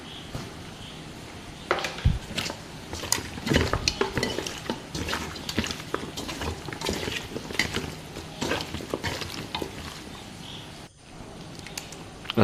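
Raw chicken being mixed by hand with salt, turmeric and chili powder for a home-style chicken biryani, giving a steady run of wet stirring and clinking against a bowl or pan, fairly close and continuous with no voices.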